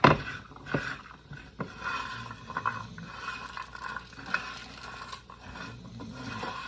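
Pecans and walnuts browning in a hot pan, stirred with irregular scraping and light knocks of the utensil against the pan, close and moderately quiet, with no talking.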